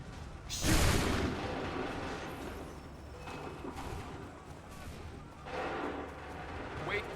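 Musket volley fire in Assassin's Creed III: a loud burst of massed shots near the start, then rumbling battle noise with scattered further reports and another swell of firing later, with game voices heard over it.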